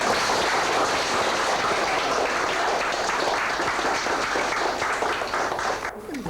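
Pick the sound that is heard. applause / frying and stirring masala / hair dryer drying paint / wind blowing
applause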